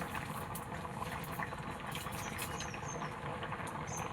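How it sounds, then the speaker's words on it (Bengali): Taro pieces boil vigorously in a wok of water for a village-style fish curry, a steady dense bubbling and churning that runs throughout without a break, close and moderately loud. "এই যে কচু কড়াইতে এই যে টকবক করে ফুটতেছে"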